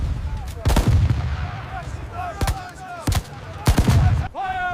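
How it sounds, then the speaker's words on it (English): Artillery guns firing as a battlefield sound effect: several heavy booming blasts at irregular intervals over a constant rumbling background, loud and close, with faint tonal whines between the shots. "Grid marked. Bring the guns in now."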